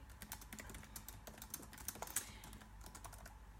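Rapid keystrokes clatter on a computer keyboard, close and fairly quiet, in an irregular steady rhythm.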